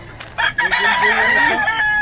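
A rooster crows loudly and close by, one long drawn-out call with hens clucking faintly around it.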